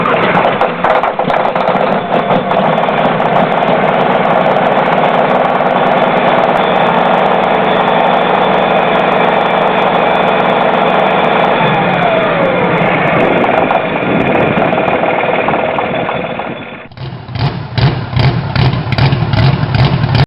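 A 1950 Caterpillar D353 24.4-liter inline six-cylinder diesel from a D9 dozer runs with a loud, steady rumble, then the tone shifts abruptly near the end into a harsher, rougher running note.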